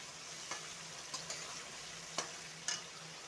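Beef frying in a pan for a beef and potato stir dish: a quiet, steady sizzle with a few sharp clicks of stirring spaced through it, no talking.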